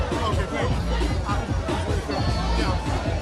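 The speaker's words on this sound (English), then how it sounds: "You see the crowd here waiting patiently for the NDC presidential candidate, John Mahama" A crowd of NDC supporters waits for presidential candidate John Mahama at a campaign event, producing a dense, steady babble of many voices and chatter close around.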